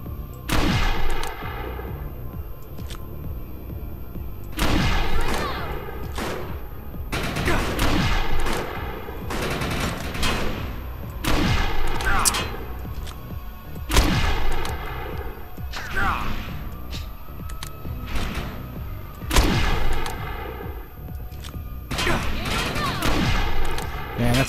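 Sniper rifle shots ring out in a Defiance shooter game, sharp loud cracks scattered irregularly among dense game explosions and gunfire, with someone talking over much of the action.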